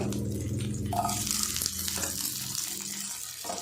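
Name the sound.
garlic cloves sautéing in a pan for tomato chutney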